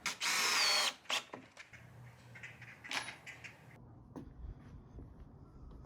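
A power drill pre-drills and drives screws into a deck board set at waist height. A short, loud whine of the drill is followed by scattered knocks, clicks and handling noises up close.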